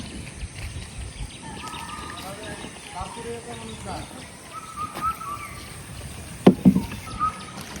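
A wooden rowing boat moves through floodwater over a flooded rice-drying yard, giving a steady watery swish and knock close by, with birds calling and people talking now and then.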